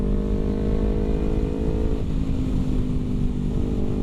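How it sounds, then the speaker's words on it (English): A Kawasaki Ninja 250R motorcycle drones steadily while being ridden, a loud, continuous engine note with rumbling wind noise and little change in pitch. "I forgot how fun this bike was to ride, honestly."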